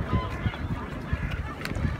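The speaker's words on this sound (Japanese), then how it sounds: "白鳥やってきた、やった。" A swan calls on the River Avon at Stratford-upon-Avon, giving honking, goose-like calls that repeat several times over steady outdoor background noise, with faint voices nearby.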